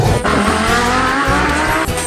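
Children's toy car driving, its motor whining with a steady revving, racing-like tone that holds loud and close throughout, with brief dips but no voices.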